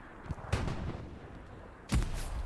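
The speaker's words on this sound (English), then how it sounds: "Doran loads up a grenade. Lobs." Two grenade blasts in a competitive video game match crack out about a second and a half apart, with short booming tails over low background noise.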